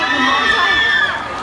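A crowd cheering and shouting loudly and continuously at an IHOP restaurant opening event at Siam Paragon, with high children's voices mixed into the dense roar.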